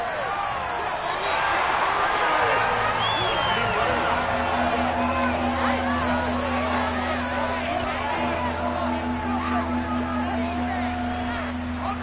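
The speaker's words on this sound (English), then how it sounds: "Plenty of shouts from this crowd as they watch the replay" A football stadium crowd shouts and roars in a continuous broad wash of massed voices, loud and far-spread, while a commentator talks over it.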